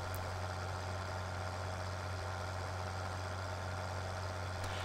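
A video game truck engine in Farming Simulator 2013, a continuous low drone humming at a steady pitch, tractor-like, unchanging and fairly quiet, with no other sounds or voices.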